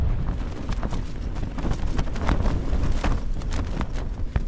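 Strong winter wind buffets a tent at a wild camp by Angle Tarn in the Lake District, a loud continuous roar with gusty rattling flaps, no talk.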